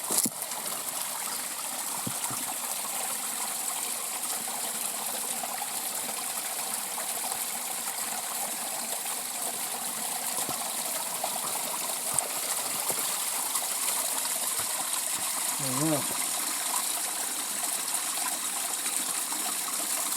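A river in Hells Canyon flowing steadily, a broad, continuous rush of moving water heard close by with no voices over it.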